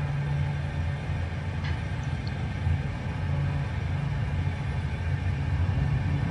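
EMB-312 Tucano turboprop at full throttle for takeoff in Microsoft Flight Simulator: a steady, droning engine roar with a constant low hum and no voices.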